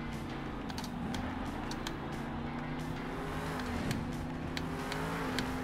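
Monster truck engine in Monster Jam Steel Titans 2 holding a steady droning rev while drifting around a course, continuous and close, with a few faint higher clicks over the top and no talking.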